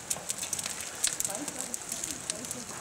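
A campfire crackles under a kettle of Hungarian-style goulash outdoors, with sharp irregular pops and snaps over a steady hiss, and faint background sounds in between.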